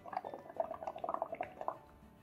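Bubbles are blown through a straw into a cup of bubble paint, giving a faint, rapid run of small bubbling and popping sounds that continues for a couple of seconds.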